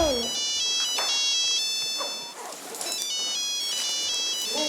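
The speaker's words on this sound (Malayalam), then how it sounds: "റൊമാൻഡിയുടെ ഫോൺ റിങ് ചെയ്യുന്നു." A mobile phone plays a bright, repeating electronic ringtone melody, near and clear throughout, with brief voice sounds at the start and a short pause midway.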